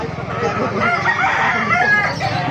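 A gamefowl rooster crows amid a busy fowl market in Bocaue, with other fowl, including four-month-old Gilmore Hatch birds, clucking and a voice talking underneath throughout.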